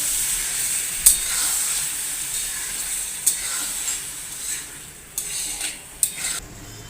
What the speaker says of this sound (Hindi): अब हम टमाटर का पेस्ट ऐड करेंगे 1 प्याली। इसे भी फ्राई कर लेंगे।